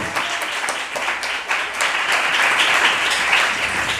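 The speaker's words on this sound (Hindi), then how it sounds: "तालियों बजाए है राहब के लिए" Steady applause from a crowd, dense and continuous clapping that holds at an even, fairly loud level throughout.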